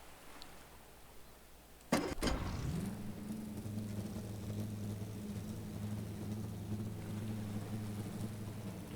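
A video game boat with two medium engines starting: a sharp click-like burst, then engines spinning up into a steady low drone that holds with a second hum joining, moderately loud with no talk.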